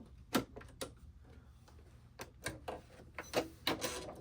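An embroidery machine stitches a zipper placket held in the hoop, producing quiet, irregular mechanical clicks and taps with a faint motor hum beneath, close by and without talk.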